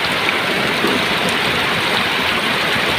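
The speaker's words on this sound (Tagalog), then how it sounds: "ang lakas ng ulan" Heavy rain pouring during Storm Carina near a swollen river in Tarlac City, a loud unbroken roar of falling water that fills the scene steadily from start to finish.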